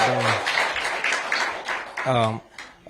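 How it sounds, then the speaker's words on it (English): Audience applause at a Washington, D.C. mayoral event awarding grants to out-of-school-time programs, a dense patter of claps from a crowd, with a voice speaking briefly at the start and again partway through. "Give them a round of applause."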